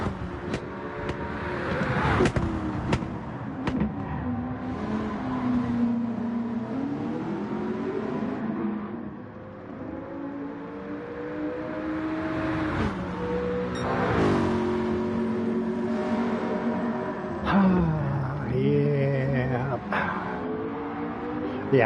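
In a racing sim video game, a race car engine revs up and down through gear changes, with rising and falling pitch sweeps and a steady mid-level roar, while someone talks over it throughout.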